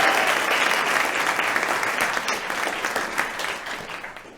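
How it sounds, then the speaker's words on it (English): An audience at an outdoor inclusivity panel and mixer gives a warm, sustained round of applause for the event hosts, dense clapping that slowly tapers off. "let's give a huge round of applause to Jamie and RJ and all of OCO for hosting this weekend"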